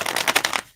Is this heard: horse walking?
no